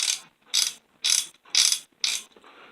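A different Craftsman hand ratchet, dry inside, ratchets in five short, evenly spaced bursts of harsh, rapid clicking heard up close, with no speech.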